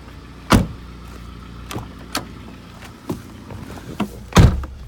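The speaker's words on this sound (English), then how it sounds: "Is this window working?" The electric window of a 1994 Ford Granada 2.0 petrol automatic is worked, a low motor hum under a few separate thunks and clicks from inside the car, with two louder knocks near the start and end.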